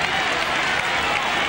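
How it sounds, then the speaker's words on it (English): A stadium crowd applauds and cheers during the 1982 Western Australian football grand final between Swan Districts and Claremont, a dense, loud, continuous roar of clapping that fills the whole moment. "Loud applause for him."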